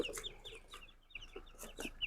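Australorp chickens cluck and chatter in short, repeated bursts, close and fairly clear, several birds calling over one another with no talking.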